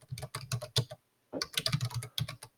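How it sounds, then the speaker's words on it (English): Fast clicking on a computer keyboard, close and distinct, in two quick bursts separated by a short pause, with no talking. "We're going to type in our class name,"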